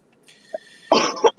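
A person lets out a short throat-clearing sound followed by two quick, close, loud coughs in a quiet room.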